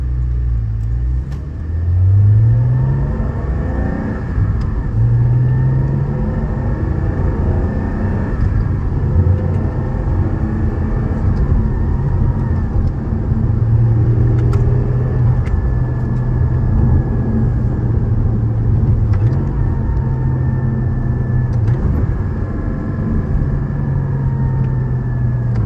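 A Porsche 718 GTS 4.0 idling with its exhaust valves closed: a steady, deep, muffled rumble that holds constant and close throughout, with slight rises and dips in engine tone.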